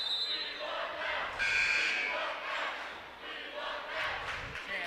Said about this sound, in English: There's your Mads Knudsen chant.